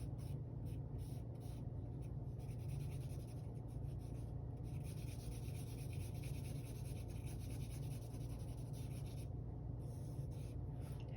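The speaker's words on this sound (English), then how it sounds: "Now we're gonna go back to our charcoal, and I'm gonna start drawing this in." Charcoal scratches and rubs across paper in quick, uneven strokes with short pauses, close and soft over a low background rumble.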